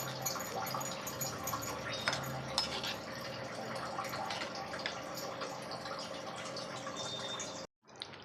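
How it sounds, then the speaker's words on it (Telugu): Gongura pulusu with chana dal, salt and chili simmers in a pot, giving a faint, steady bubbling with scattered soft pops and drips before cutting off abruptly. "చూడండి ఫ్రెండ్స్, ఉడుకుతుంది."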